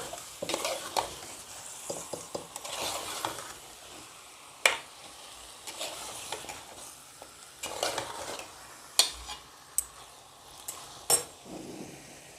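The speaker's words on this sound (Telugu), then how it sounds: "హై ఫ్లేమ్లో పెట్టుకుని ఒక్కసారి వేపుకోవాలి టూ మినిట్స్ ఆ మసాలా అంతా కూడా చికెన్కి పట్టేలాగా వేయించుకోవాలి" Chicken coated in masala frying in a pan over a high flame, with a steady sizzle and repeated spoon scrapes and clanks against the pan as it is stirred, close up and with no voices.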